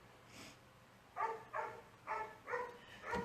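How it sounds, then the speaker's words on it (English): Several dogs bark outside in a quiet house, a handful of short, muffled barks heard faintly at a distance in a quick irregular series. "Maybe you can hear my dogs outside barking."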